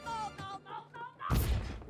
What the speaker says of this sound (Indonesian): Setelah pesan video itu berakhir, kaset itu pun meledak.